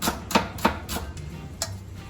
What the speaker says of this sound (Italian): Fate semplicemente delle rondelline sottili, la buttiamo già insieme al nostro soffritto